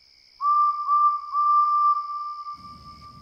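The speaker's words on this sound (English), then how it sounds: "Then, he heard a familiar whistle." A steam engine whistle from an animated tank engine story at engine sheds. One clear, steady tone starts with a few short pulses, holds loud for a couple of seconds, then cuts off as a low rumble comes in.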